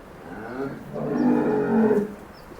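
A cow moos loudly nearby in a cowshed, a long low drawn-out call that swells in the middle, with no one talking.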